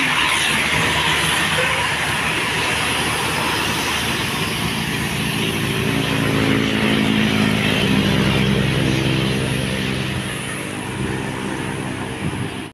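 Sinar Jaya bus passing on the steep Gentong descent, a loud continuous rumble of heavy engine and road noise with wind hiss, building slightly before easing away.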